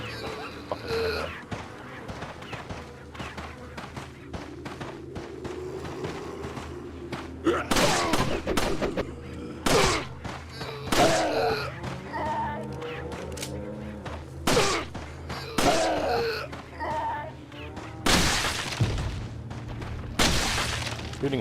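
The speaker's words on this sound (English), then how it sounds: "Shooting heads off will never ever get old." Gunfire in the game Resident Evil 4 cracks out in scattered bursts as enemies' heads are shot, mixed with heavy booms, thuds and shattering crashes, loud and irregular over a busy game soundscape.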